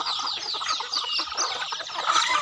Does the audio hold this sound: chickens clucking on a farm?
yes